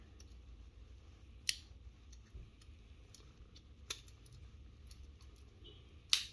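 A few sharp metallic clicks spaced seconds apart as the tools of a Swiss-style pocket knife are folded shut, close and otherwise quiet.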